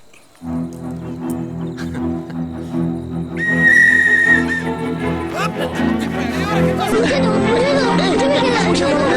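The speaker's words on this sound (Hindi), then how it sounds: "तुम्हारी सीटी ले सकता हूँ?" A referee-style whistle is blown at a football practice, a sustained shrill tone rising over crowd chatter and music, fairly loud amid other sounds.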